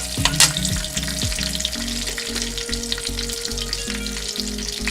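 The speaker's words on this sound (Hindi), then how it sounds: "अब इसमें मैंने हरी मिर्ची डाली है, जो मैंने काट कर पहले से रखी थी, ब्राउन की हुई है। इसको ब्राउन करना है।" Cumin seeds and green chilies fry in a hot pan with a steady, close sizzle, broken by repeated stirring scrapes for a dish of lapte aloo; no one talks.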